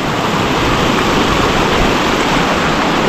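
Pandavkada Waterfall in Navi Mumbai in the rainy season, water pouring down from above under high pressure, a loud, steady broadband roar that fills the whole stretch with no pauses and no voices.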